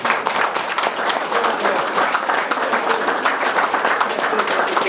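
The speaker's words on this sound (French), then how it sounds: "Vous pouvez l'applaudir parce qu'il le mérite." Applause for Robert Talbot, honoured at a gathering in Oradour-sur-Glane: a crowd claps steadily and warmly for several seconds, a dense, even patter with no voices over it.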